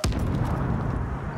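Dense, continuous gunfire in the video game The Division, aimed at an enemy tank, with a sharp initial blast followed by a steady rumbling barrage that fills the whole moment.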